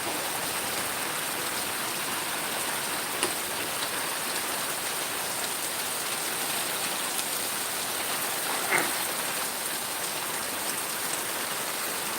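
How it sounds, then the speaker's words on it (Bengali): Very heavy rain pours steadily with wind, a dense unbroken hiss of drops drumming on surfaces, close and loud throughout. "খুব ভারী বৃষ্টি"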